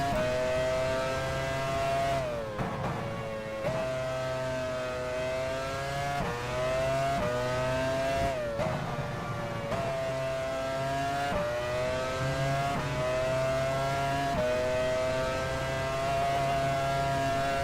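A Formula One car engine in the racing game F1 Challenge 99-02 drones loudly and steadily, its pitch rising and falling through gear shifts with brief dips between, continuous with no voices.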